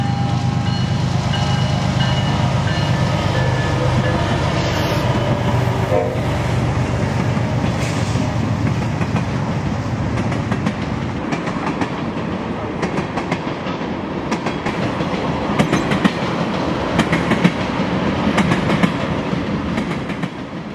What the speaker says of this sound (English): Our first catch was a crude oil train coming up out of Altoona.